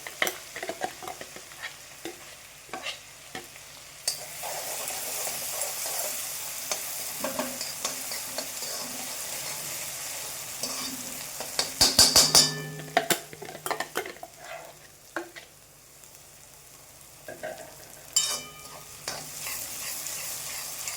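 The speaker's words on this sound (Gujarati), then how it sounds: "આને બે મિનિટ માટે સોટે થવા દઈશું" Garlic-chili paste with sesame seeds and asafoetida sautéing in a pan, a lively sizzle broken by repeated spoon scrapes and clinks against the metal, close and continuous, with no voices.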